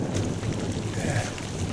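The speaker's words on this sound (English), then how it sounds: "the little waves rolling onto the shore here" Small waves lap steadily onto a little reservoir beach in the South Pennines, a constant close wash of water mixed with gusting wind buffeting the microphone, with no other sounds.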